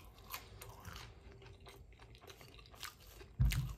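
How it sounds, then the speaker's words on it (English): Checkers Cajun fries are chewed close to the mic with soft crunching and mouth sounds over a steady low background hum, ending in one louder crunchy bite. "I think they told me these were their Cajun fries."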